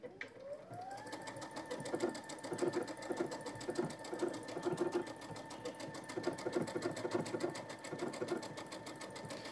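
A sewing machine with sideways feed stitches a decorative pattern in variegated thread, starting up and then running in a steady, fast mechanical chatter of needle strokes, close and moderately quiet throughout.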